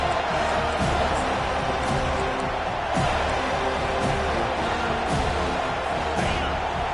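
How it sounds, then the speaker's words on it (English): Stadium crowd at a football game roars steadily as the defense tries to get a stop, a dense continuous wash of cheering with occasional sharper shouts, while a commentator talks over it. "And this crowd coming to life here, trying to help the defense get a stop with the offense pinned back."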